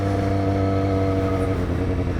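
Yamaha FZ-07 motorcycle engine held at a steady loud drone during a wheelie, close and continuous, with a rich low hum that holds without letting up.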